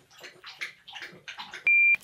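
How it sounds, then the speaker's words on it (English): A dog laps up drinking water in a quick series of wet, rhythmic slurps, heard close by. A brief, sharp electronic beep sounds near the end. "my dog is drinking water."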